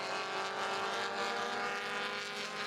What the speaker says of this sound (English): that growl that the K-Series engines always seem to have